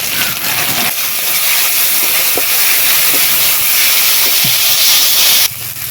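Meat curry spices, chili powder and turmeric, fry in a pan with a loud, steady hiss that fills the whole stretch close up, then drops off sharply just before the end.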